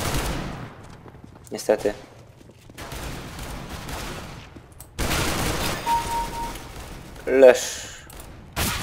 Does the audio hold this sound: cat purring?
no